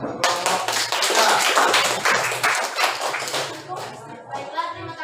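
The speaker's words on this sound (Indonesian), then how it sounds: "tepuk tangan untuk kelompok" A classroom group finishing a presentation receives a round of clapping from classmates, dense overlapping claps filling several seconds and tapering off, with voices talking over it.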